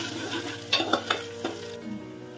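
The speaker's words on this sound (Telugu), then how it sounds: "ఆనియన్స్ పచ్చిమిరపకాయలు వేసేసి వేయించుకుందాం." Onions and green chillies drop into hot oil for a chicken and drumstick curry, giving a close sizzle with a few sharp clinks and scrapes of a utensil against the pan before the sizzle settles.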